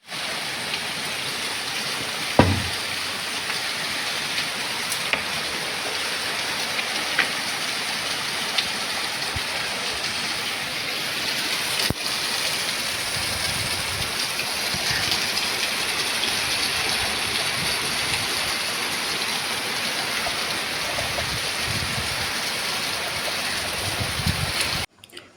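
Heavy rain falls steadily for the whole stretch, a dense, even wash of water with an occasional louder splash or knock and no voices.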